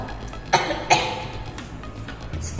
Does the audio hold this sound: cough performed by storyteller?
yes